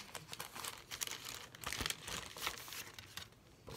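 Stencil packaging material being torn and crinkled open, with close, irregular bursts of rustling and ripping at moderate volume and no talking.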